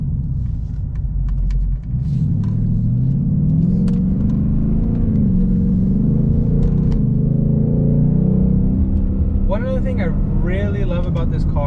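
A 2020 Ford Mustang GT with an automatic transmission accelerates from inside the cabin, its low engine rumble climbing steadily and dipping briefly at quick gear changes, with a voice speaking over it near the end.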